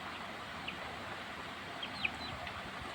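Backyard chickens grown to about one kilogram make soft, sporadic clucks and short chirps over a steady low outdoor hiss, a few brief calls spread across the moment, fairly faint.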